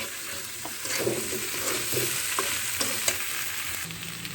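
Fried soya chunks sizzle steadily in a hot pan of thin curry base with green banana and taro, with soft scraping stirs breaking through the continuous hiss; close and alone, no voices.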